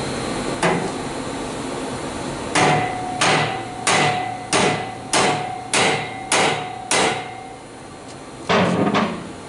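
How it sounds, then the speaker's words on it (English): A rubber hammer strikes a car exhaust junction on a 2011 Mustang GT 5.0, one lone knock followed after a pause by a regular series of about ten sharp, ringing blows, close and loud, with no talk. "Let's grab a rubber hammer and smack it from back here."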